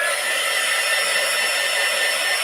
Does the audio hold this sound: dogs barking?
no